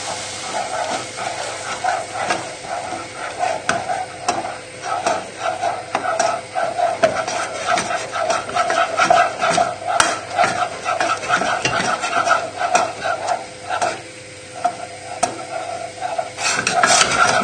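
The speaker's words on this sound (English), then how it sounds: "Just keep stirring it and it should come into a ball into the middle." A dash of milk stirred into a hot pan while making a vegetarian lasagne sauce, with close, repeated scraping strokes over a continuous hiss and sizzle lasting several seconds.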